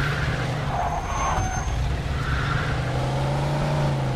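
A supercharged Jeep roars and skids in the video game Mafia II, with a steady engine drone and screeching tyres across the whole stretch.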